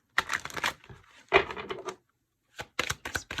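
Tarot cards being shuffled by hand, giving quick papery riffles and soft flicks in short clustered bursts with brief pauses between them, close and fairly quiet, with no talk.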